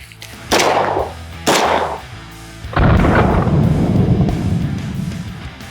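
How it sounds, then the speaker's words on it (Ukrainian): Rifle shots with regular bullets fired at an armor plate during a crash test, outdoors: two loud close cracks about a second apart, then a heavier boom with a long rumbling tail. "Зараз стріляємо звичайною кулею."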